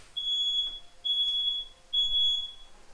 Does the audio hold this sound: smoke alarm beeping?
yes